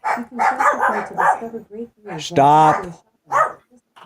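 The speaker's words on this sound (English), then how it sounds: "Now my dogs are going nuts." Pet dogs bark excitedly indoors, several sharp barks mixed with whimpers and yips, loud and close, overlapping with a person talking.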